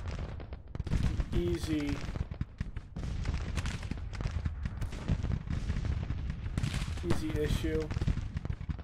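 Cannon fire from 12-pound Napoleon guns in a Civil War video game set at Fredericksburg: repeated booming blasts and rolling gunfire throughout, under a voice speaking briefly.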